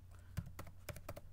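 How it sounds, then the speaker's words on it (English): Short burst of typing on a computer keyboard during a LAMP server database setup, with several distinct close key clicks in an uneven rhythm over a quiet background. "you want to go ahead and type in the keyword show"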